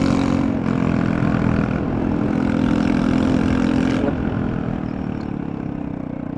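Motorcycle with a loud exhaust note rumbling steadily up close, a dense throbbing drone that holds for the whole stretch and eases slightly near the end.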